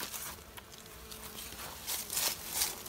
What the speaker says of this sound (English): Good group of bees here.